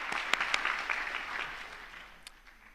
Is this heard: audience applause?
yes